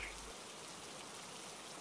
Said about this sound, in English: do you enjoy the rain as well?